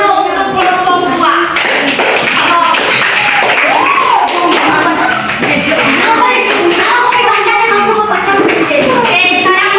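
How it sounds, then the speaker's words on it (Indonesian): Classroom clapping for a student group during a bilingual science lesson, a dense steady patter of many hands lasting throughout, mixed with children's voices and chatter. "Tepuk tangan dulu untuk kelompok dua."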